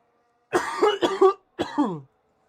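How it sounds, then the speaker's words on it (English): Someone coughs several times close up in two quick clusters, short harsh bursts separated by a brief pause. "I do apologise if you hear me coughing a bit"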